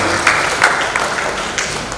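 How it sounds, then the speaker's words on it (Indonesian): A crowd at a public mask-wearing event with the East Java governor in Blitar, Indonesia, claps briefly, with a few louder bursts standing out over a scattered patter. "Tepuk tangan untuk Ibu dan Ibu."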